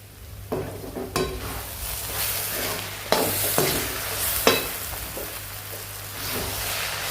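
Vegetable samosa stuffing being stirred in a pan with salt just added, a continuous sizzle under a low steady hum, punctuated by several sharp spatula scrapes and clanks, close-up and fairly loud, with no voices.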